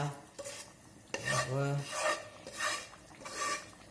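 Oil-fried flour being stirred into a pot of beef goulash: a spoon scrapes and rubs against the pot in several rhythmic strokes, close and fairly quiet, with a short clink of metal.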